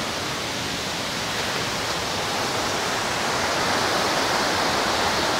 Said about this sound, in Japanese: で、ここ、大滝の展望台。